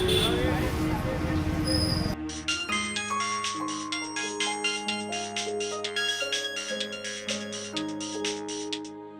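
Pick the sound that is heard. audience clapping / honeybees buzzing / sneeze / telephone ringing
telephone ringing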